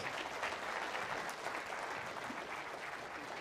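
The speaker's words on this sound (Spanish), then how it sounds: "Un aplauso fuerte" Sustained applause from a crowd, a dense, even patter of many hands clapping throughout at moderate distance.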